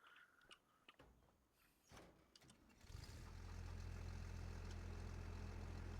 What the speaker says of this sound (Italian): il primo colpo è andato in moto addirittura